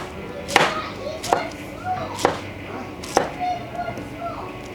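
A knife chops fruit into small pieces for a spicy Thai fruit salad, striking the board in four sharp, evenly spaced cuts up close, with faint talk in the background.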